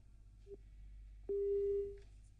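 Telephone busy signal after a dropped call on a news broadcast: a short beep followed by a longer steady electronic tone, moderately loud against low background hum.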